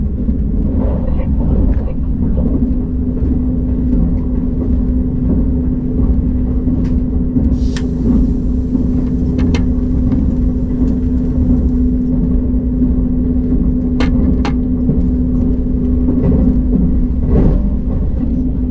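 A KTX high-speed train runs along the Gyeongbu line past Naepan station, giving a loud, steady low rumble with a constant hum throughout and a few brief higher squeals and clicks.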